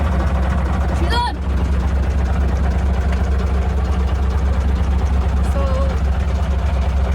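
A tractor engine idles for power washing with a loud, steady, low rumble throughout, close by, while someone speaks briefly over it.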